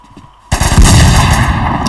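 A gun in a paintball-style PvP video game fires after a brief lull, a loud, sustained burst of rapid gunfire that fills the rest of the moment.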